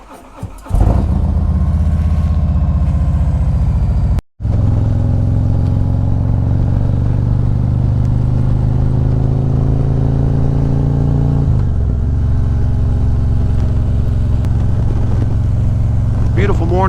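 Harley-Davidson Street Glide and Road Glide motorcycles, a 2020 CVO Street Glide 117 and a 2020 Road Glide Special 128, rumble loudly and steadily up close after a start-up, with a brief cutout and a change in engine note partway through.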